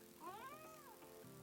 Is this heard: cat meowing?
yes